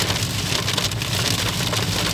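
Very heavy rain pours down steadily, a dense, loud hiss of drops drumming on surfaces throughout, with no voices.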